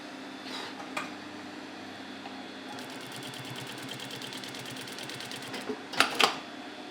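A sewing machine in a workshop stitches through a very thick stack of layers, a fast, even mechanical rattle that runs steadily for several seconds, then stops with a few clunks. There is no talking.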